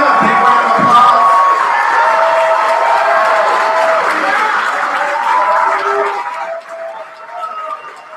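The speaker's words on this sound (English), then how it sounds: "Can we give them a big round of applause?" An audience applauds at a debate tournament award ceremony, giving a broad, sustained wash of clapping that thins toward the end.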